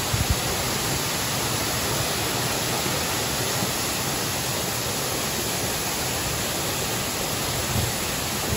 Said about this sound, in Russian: Водопад Эль-Ничо.